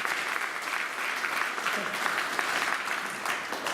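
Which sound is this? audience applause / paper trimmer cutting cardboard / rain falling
audience applause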